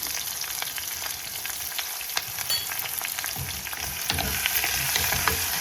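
Green chillies and onion frying in oil while cooking okra in tamarind gravy, a steady loud sizzle with crackles running throughout and occasional stirring scrapes; no one speaks.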